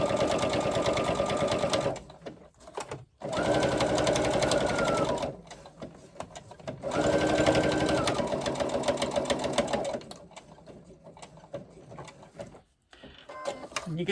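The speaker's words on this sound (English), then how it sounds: "to your machine, top stitch along the top" A sewing machine top stitches along the edges of a fabric piece in bursts of rapid, rattling needle strokes. Short pauses fall between runs, with faint handling sounds in the gaps.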